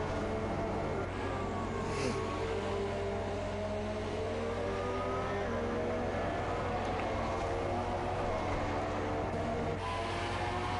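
Two Ferrari Formula 1 cars lap Silverstone together in an F1 video game during a British Grand Prix league race. Their engines whine steadily, pitch rising and falling through gear shifts, and no one talks over them.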